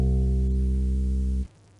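Steady low-pitched synthetic test tone with a rich stack of even harmonics, held at constant loudness for about a second and a half, then cutting off abruptly into near silence.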